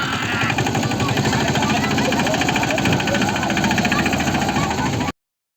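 A farm tractor engine runs close by with a loud, steady, rattling diesel throb, and a voice speaks over it before it cuts off abruptly.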